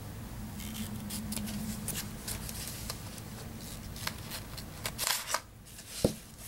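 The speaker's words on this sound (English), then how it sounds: "trim that beautiful, gorgeous ribbon down" Ribbon on a Ghirardelli treat holder is trimmed with scissors, a few soft snips and rustles close up over a low hum, ending with a sharper click.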